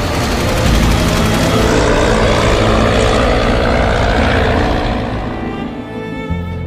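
Propeller-driven warplanes roaring over a city during an air raid, a loud sustained engine drone that slowly fades toward the end.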